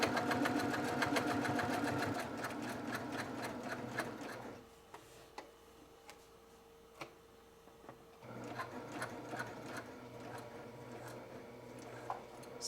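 A multi-needle embroidery sewing machine stitching a Kimberbell table topper, running in a fast steady clatter, pausing briefly to a near-quiet hum with a few faint ticks, then resuming its rapid rhythmic stitching.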